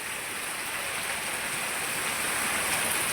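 Steady rain pours down outdoors during hot weather, a dense, even hiss of drops on surfaces that holds constant and fairly loud throughout, with no voices.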